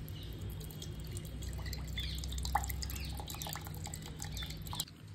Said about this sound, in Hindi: पानी तो निकल चुका है नारियल से